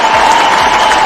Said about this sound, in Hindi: एक जोरदार ताली होनी चाहिए उनकी।